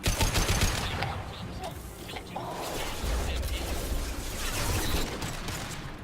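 Loud, dense bursts of gunfire from the video game Mass Effect 2, during a firefight on Korlus, crackle almost continuously for six seconds, with overlapping rapid shots and mechanical clatter.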